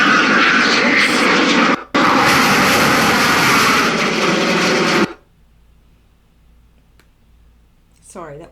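A Eurofighter Typhoon fighter jet roars overhead, a loud, close, broadband engine blast lasting several seconds before cutting off abruptly, followed by quiet and a brief voice.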